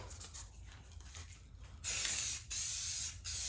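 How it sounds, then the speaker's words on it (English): Clear satin spray hisses from an aerosol can onto a laser-engraved canvas in three close, loud bursts separated by short pauses, after a quiet stretch. "we're just going to finish it off with our clear satin spray"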